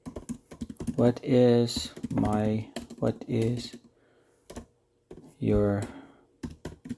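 Code is typed in Python on a computer keyboard, with sparse, crisp key clicks in the pauses between a person's nearby speech.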